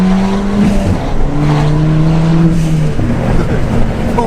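A stage 2 Ford Fiesta ST accelerates hard on the road, its engine note climbing steadily and loudly close by, with no talking over it.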